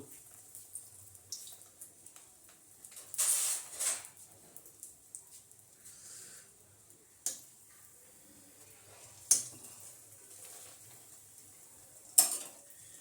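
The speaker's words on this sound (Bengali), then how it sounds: "এবার পাউরুটিকে কড়ার মধ্যে দিয়ে দিচ্ছি" Bread slices frying in a kadai for egg toast, a faint low sizzle under quiet kitchen sounds, with a few sharp clinks and taps of a utensil against the pan.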